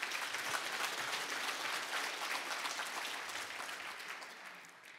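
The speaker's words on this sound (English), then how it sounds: "let's give those top 4 a round of applause" Steady audience applause at an annual conference celebrating top territory managers, a dense, even wash of clapping from a large crowd that fades slightly toward the end.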